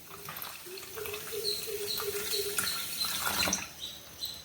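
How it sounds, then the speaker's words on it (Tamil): Water is poured into sugar in a pan to make syrup for gulab jamun. It makes a soft, continuous trickle and splash, faint and close, with no one talking. "இதோட நம்ம தண்ணி சேர்த்துக்கலாம்."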